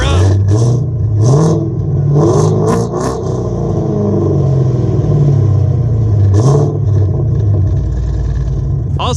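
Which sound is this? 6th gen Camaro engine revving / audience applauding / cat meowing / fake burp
6th gen Camaro engine revving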